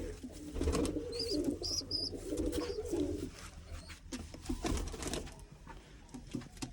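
Domestic pigeons coo in low, throaty warbling phrases for about three seconds, close by, with faint chirps and rustling in the background and no talking.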